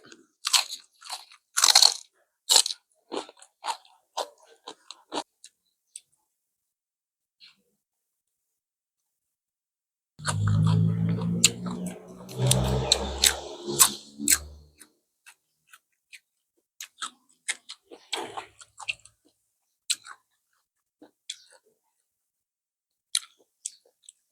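Close, moist chewing and crunching of steamed squid, irregular bites and mouth clicks scattered through long quiet gaps, with a denser burst of chewing in the middle.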